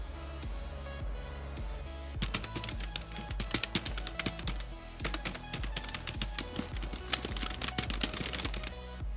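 Keys and buttons on a budget gaming keyboard are pressed in quick, irregular bursts of crisp clicks, close and loud, with quieter scattered presses before the fast typing begins.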